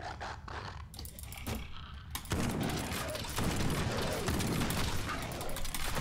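Sustained video game gunfire rips through a raid against cyborg enemies: a quieter opening with scattered shots, then a loud, dense, continuous barrage that keeps roaring to the end.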